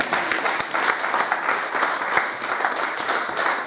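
A church congregation bursts into loud, dense applause, many hands clapping at once in a steady, irregular patter that fills the room for several seconds.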